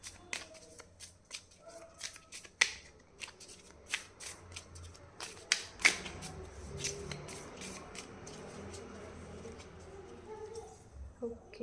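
Close, soft riffling and flicking of tarot cards being shuffled by hand, a steady run of light papery taps and slides that fades toward the end, with a quiet voice speaking underneath.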